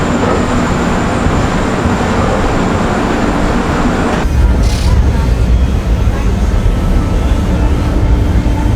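Inside a first class AC coach of the Karnataka Sampark Kranti Express, the running train gives a loud, steady rumble and rattle of wheels on track that continues throughout, with no talk.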